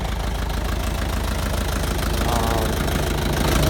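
A Mitsubishi FG 4x4 service truck's non-emissions diesel engine runs close by, with a steady, rough, knocking idle pulse that stays even throughout.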